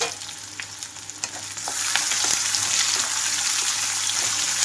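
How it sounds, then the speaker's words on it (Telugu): Onions frying in a pan over a medium flame for an ivy gourd fry, a quieter sizzle with scattered stirring clicks that swells into a louder, steady frying hiss partway through. "మీడియం ఫ్లేమ్లో ఉంచి ఉల్లిపాయలన్నీ కొంచెంగా వేగనిస్తున్నాను"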